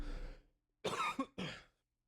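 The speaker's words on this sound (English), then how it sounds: "I tried to mute my mic to block the cough" A person coughs a couple of times in quick succession, close to the microphone, following a brief rough breathy sound.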